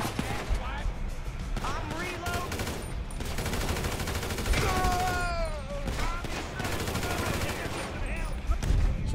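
Gunfire in the Grand Theft Auto 5 video game crackles in rapid, sustained bursts of close shots, with whizzing sounds mixed in, as someone shouts and talks over the shooting.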